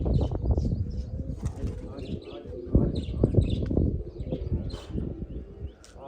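Pigeons at a loft coo low and continuously while wings flap now and then, all beneath someone speaking Punjabi nearby.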